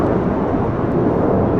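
A JetBlue Airways A321 jet airliner takes off from runway 25 right at LAX, giving a steady, loud, broadband engine roar that holds without a break.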